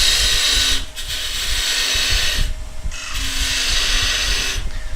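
Woodturning tool cutting into a spinning piece of wood on a lathe during a live demonstration, a steady loud hissing scrape with two brief pauses where the cut lifts off.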